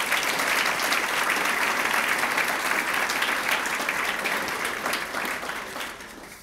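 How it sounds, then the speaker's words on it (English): An audience at an evening celebration of a graduating class gives a round of applause, broad continuous clapping that holds strong before easing off slightly toward the end. "I think we should give them a round of applause"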